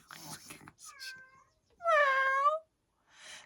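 A cat gives a clear, drawn-out meow for attention, loud and close, after a softer earlier call, with people talking before and after it.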